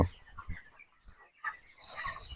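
Poultry-farm chickens, recovering from a cold and fever, cluck in short irregular bursts close by, with quiet gaps between them and a brighter rustle of activity near the end.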